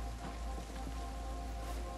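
Steady rain falls in the Project Zomboid video game, a dense, even hiss of drops on surfaces that holds for the whole stretch, with no voices over it.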